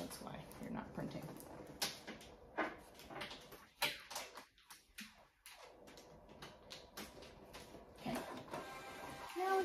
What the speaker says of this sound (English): Now it's printing out my stuff.